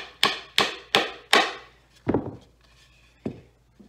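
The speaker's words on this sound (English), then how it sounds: "I like to use the hammer to drive it in." Hammer driving a tack into the soft wood of a banjo rim: four quick sharp taps in steady rhythm, then a pause and three more spaced blows, close and crisp.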